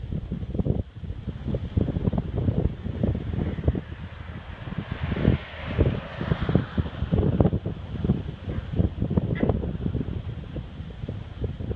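Outdoor wind buffeting a microphone near a stadium, a constant rough rumbling roar with gusty surges throughout, loud and close.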